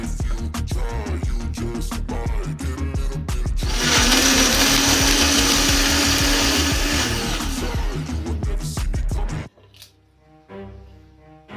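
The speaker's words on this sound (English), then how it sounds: "Once we've cut them, we're going to add them to our blender." A blender whirs loudly and steadily for about six seconds as it purees cut starfruit (carambola) into a drink, with other sounds just before and music right after.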